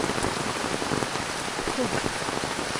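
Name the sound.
rain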